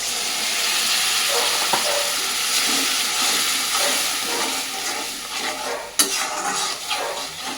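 Watery spice paste of salt, turmeric, chilli powder and cumin powder hits a hot frying pan, giving a steady loud sizzle and hiss with steam and stirring, and a sharp spatter near the six-second mark.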